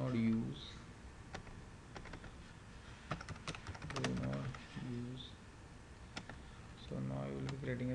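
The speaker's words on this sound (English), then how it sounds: "I will be typing Oregon underscore" Typing on a computer keyboard while setting up an AWS VPC security group, with quiet, irregular key clicks coming in short bursts between stretches of someone speaking.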